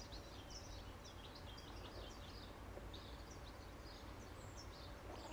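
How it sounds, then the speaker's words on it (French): Birds singing in trees outdoors, many small high chirps and trills scattered steadily through the clip over a soft, constant background hush, moderately distant. "Je peux aussi écouter le chant des oiseaux qui m'entourent."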